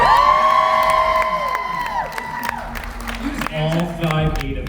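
A crowd cheers and whoops at a Knotts Scary Farm panel at Midsummer Scream, loud and sustained, with some applause and shouting and a voice speaking over it.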